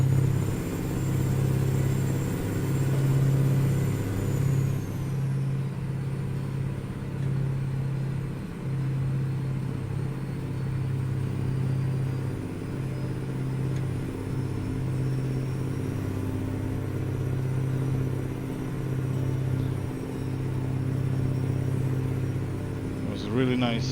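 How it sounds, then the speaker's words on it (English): Newly boosted Aussie Mack V8 truck engine revving hard at high RPM while hauling a cattle train with ballast, a steady loud droning rumble that holds throughout with a slight pitch shift near the start. "But the engine sounds really nice. It does. Even on this high RPM"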